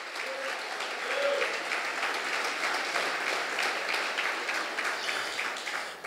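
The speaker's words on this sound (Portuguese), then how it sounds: "Você pode aplaudir ao Senhor?" A church congregation at a celebration service claps in a full, sustained round of applause that stays steady and then tapers slightly at the end, with faint voices underneath.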